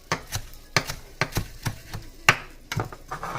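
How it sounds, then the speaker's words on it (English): A knife chops fresh parsley on a cutting board, making about a dozen crisp, close thuds in an uneven quick rhythm, with no talking. "Chop, chop, chop, chop, chop, chop, chop, chop."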